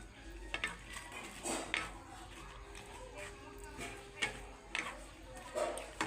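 A ladle stirs cabbage balls into a thick cornflour sauce for cabbage manchurian, making intermittent soft scrapes and light clinks against the pan. A faint low hum runs underneath.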